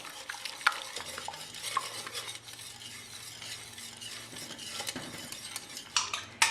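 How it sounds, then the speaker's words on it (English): A whisk scrapes and clinks steadily against a big pan as flour is worked into chicken fricassee gravy, a soft, continuous stirring close by. "I'm going to go ahead and whisk the flour into the rest of the gravy"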